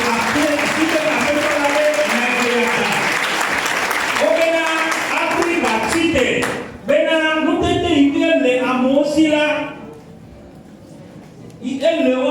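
A church congregation bursts into loud, sustained applause and cheering that fills the room, with voices rising over the clapping and a brief dip before the crowd noise swells again.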